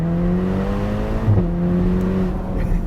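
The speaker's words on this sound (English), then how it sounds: "you hear more of the exhaust note, which sounds a little something like this" A Ferrari Portofino's exhaust drones steadily at a low, even idle or cruise, close and continuous, with a brief bump in tone partway through and no talking.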